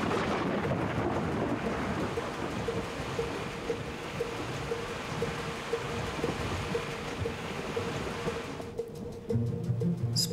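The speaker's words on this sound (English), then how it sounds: "Well, it's not like it'll rain forever." Steady rain pours down outside in a dense, even hiss with low rumbling swells underneath like distant thunder, continuous for about nine seconds before a brief shift near the end.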